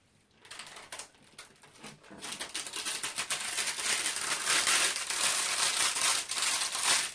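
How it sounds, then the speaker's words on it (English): Glassine paper slowly peels away from a tacky photo print with a continuous crackling, sticky rasp that grows louder and steadier, no talking. "when I come to remove the glassine paper, this happens"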